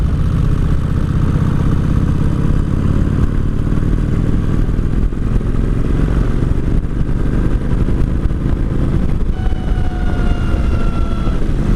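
A 2003 Kawasaki Vulcan 1600 ridden in fourth gear, with a loud, continuous low engine drone and rushing wind noise throughout and a faint rising whine near the end.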